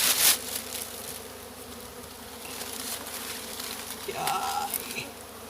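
Cavity-nesting honeybees buzz inside a car tyre used as a nest, giving a soft, continuous hum with a few louder passes near the microphone.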